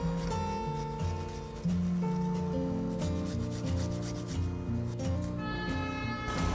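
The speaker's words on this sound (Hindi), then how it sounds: "लहसुन लेंगे और लहसुन को हम ग्रेट कर लेंगे।" Garlic is rubbed against a kitchen grater in a steady scraping rhythm for several seconds, close and fairly quiet, with background music underneath.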